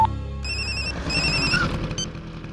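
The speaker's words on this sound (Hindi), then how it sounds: "फोन रिंग हो रहा है मगर वो उठा नहीं रहा है" Telephone ringing repeatedly with no answer, a bright electronic ringtone sounding in two bursts over a low musical background.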